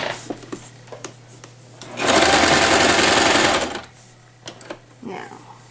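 A sewing machine stitches the ends of an elastic fabric headband together, running in one steady loud burst of about a second and a half, with quieter handling clicks and soft talk before and after.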